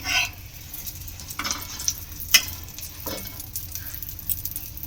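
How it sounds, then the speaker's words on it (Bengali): A folded egg fries in a pan with a soft, continuous sizzle, broken by brief scraping and pressing taps from a spatula, close and moderately quiet. "এবারে খুব ভালো করে আমি ভেজে নেব, একটু চেপে চেপে করে একদম ভেজে নিলাম"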